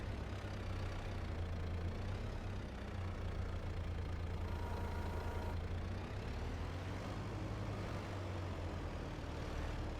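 A tractor in Farming Simulator 22 idles with a steady, low engine rumble and a constant drone that stays even throughout, with no voices over it.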